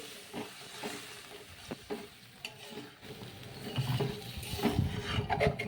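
Water goes into a hot pan of hilsa fish curry with green banana, and the pan breaks into a close, rising sizzle and bubbling hiss after a few quiet stirring clatters.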